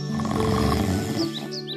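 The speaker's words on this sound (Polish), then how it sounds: "usłyszeli głośne chrapanie dochodzące z jaskini wielkiego niedźwiedzia" Cartoon bear snoring loudly inside a cave in a Polish children's fairy tale: a deep, continuous, rumbling snore that fills the whole short stretch, heard alone without talk.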